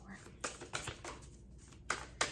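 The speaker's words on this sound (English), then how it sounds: "I'm gonna shuffle some more." Tarot cards shuffled by hand at close range, giving a handful of short, crisp papery bursts spaced irregularly, with no talking.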